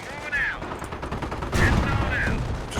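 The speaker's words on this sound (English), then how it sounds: "I'm putting down a creeping barrage on this position. Incoming heavy artillery." Heavy artillery from a creeping barrage in the video game Company of Heroes, a dense run of booming impacts and gunfire-like blasts, swelling louder partway through, with brief whistling shell sounds over the rumble.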